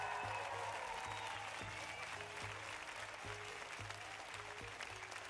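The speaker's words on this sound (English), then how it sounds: "Let us give Luis a big old round of applause." Applause for a participant on a Dungeons & Dragons homebrew review stream, a steady broadband patter of clapping held for several seconds over a rhythmic low musical beat.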